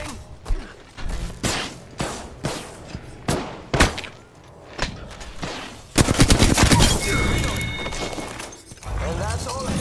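Rapid bursts of automatic gunfire from the video game Apex Legends during a match, sharp close shots in quick volleys, then a dense sustained stretch of firing with mechanical clicks, while players talk over it.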